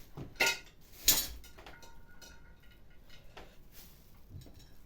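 A baking dish for oven-baked cabbage with pork shank is set down in a kitchen, giving two sharp clinking knocks close by, then quiet room tone with faint small clatter.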